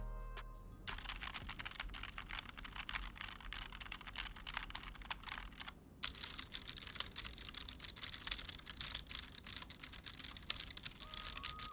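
Rapid, continuous clacking of a Roccat Pyro mechanical keyboard with TTC switches, close and clear, with a brief pause near the middle before typing resumes steadily.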